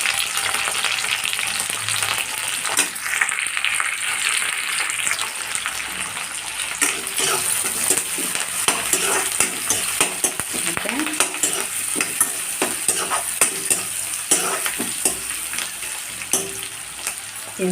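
Chopped onions, curry leaves and green chillies frying in oil in a pan for chicken curry, a continuous close sizzle with frequent stirring scrapes and spatula taps throughout, no voices.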